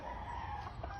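Thompson White gamefowl broodcock at a game farm, a faint short crow or cluck heard from some distance over a steady background hum, with no talk.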